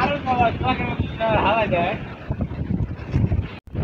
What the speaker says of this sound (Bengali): দেখো যে কি পরিমাণ বাতাস